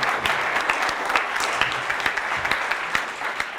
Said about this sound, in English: give him a round of applause too